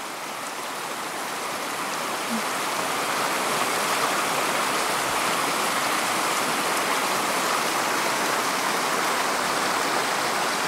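A river on Dartmoor rushes steadily nearby, a loud, even wash of flowing water that fills the whole stretch without pause or voices.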